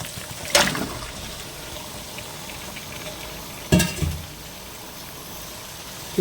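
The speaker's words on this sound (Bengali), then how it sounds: "এবার আমি চিকেনগুলোকে ঢেলে দেবো এতে।" Chicken pieces are tipped into a spiced masala frying in oil in a pan for a homemade chicken curry with potatoes. Two loud, sharp sizzling bursts, one early and one later, each fade into a quieter, steady frying hiss.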